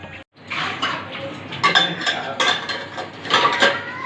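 Dishes clatter and clink as they are loaded into a dishwashing machine at home, a close, busy series of ceramic and metal knocks over a few seconds, with no talking.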